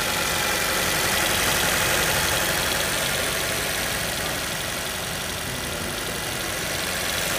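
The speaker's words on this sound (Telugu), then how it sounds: "సిఎన్జీలో ఇప్పుడు రన్ అవుతుంది, ఒకసారి సౌండ్ అయితే మీకు క్లారిటీగా వినండి" A 2023 Toyota Rumion petrol engine running on CNG idles steadily, a constant even hum with faint knocking texture throughout, heard close with no talk.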